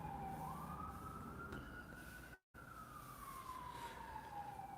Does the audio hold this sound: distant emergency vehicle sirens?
yes